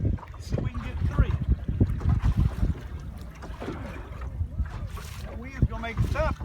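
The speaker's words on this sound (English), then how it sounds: "That wind's gonna make it tough today." Wind gusting over open water while out in a boat, a steady rumbling buffet on the microphone under a voice that carries through much of the stretch.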